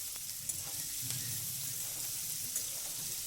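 Green peas and mixed vegetables stirred in hot oil for a sago pulao, with a steady close frying hiss and faint low scraping from the stirring, no voices.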